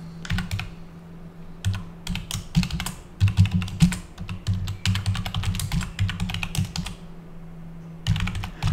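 Fingers typing a web link on a computer keyboard, close and crisp bursts of rapid key clicks with brief pauses between runs and a final flurry after a short gap.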